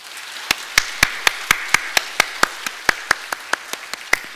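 A church congregation claps in welcome during a Sunday service, a few steady hand claps spaced about a quarter second apart, crisp and close, with no talk over them.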